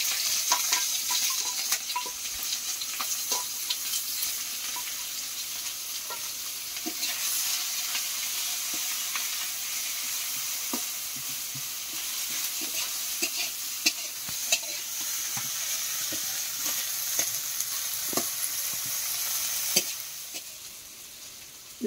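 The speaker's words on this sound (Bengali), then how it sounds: "পেঁয়াজ কাঁচা লঙ্কা দিয়ে দিচ্ছি তেলে" Onion and green chili sizzle steadily in hot oil in a hot wok, a dense continuous frying hiss with scattered spoon scrapes and small clinks throughout, close and fairly loud, no talking.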